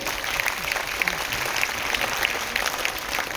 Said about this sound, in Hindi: नाउ जोरदार तालियां अपने लिए बजाइए